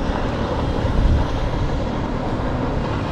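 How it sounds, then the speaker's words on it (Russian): A motor boat passes on the Oka river at the end of August, giving a steady, full-bodied engine drone that holds evenly throughout with no voices. "Это моторная лодочка."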